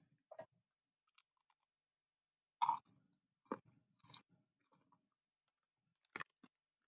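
Close-up crunching of cheddar rice crisps, several separate bites with quiet pauses between them.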